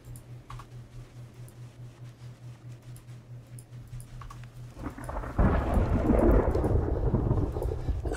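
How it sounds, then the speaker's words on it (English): A thunderstorm in a game: rain patters with a light pulsing rhythm and faint taps, then thunder breaks in and swells into a loud, heavy rumble that carries on to the end, with nobody talking. "we're in a right old storm here"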